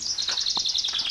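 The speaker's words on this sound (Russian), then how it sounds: "Поют птицы." Birds sing on the bank of the Ros River at a fishing camp, a rapid, continuous high-pitched chirping trill, close and clear with no voices.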